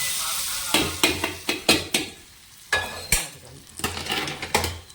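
Hot tempering for a coconut and raw mango chutney crackles and sizzles in a pan as a spoon scrapes and stirs in quick, repeated strokes, with bright clinks against the metal close by.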